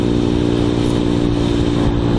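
Motorcycle with bar-end mirrors riding through a lean into a lane change, its engine droning steadily and loudly up close with a constant harmonic hum and no pauses throughout.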